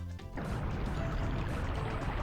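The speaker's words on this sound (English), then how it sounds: "Once we line it up, water will flow from the top of the tower." Water pouring down from the top of a tower in Bomberman 64, a steady loud rushing splash that starts abruptly after a short opening sound and keeps going without a break.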